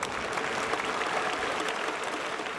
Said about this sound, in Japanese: 今も大きな拍手が上がっていますが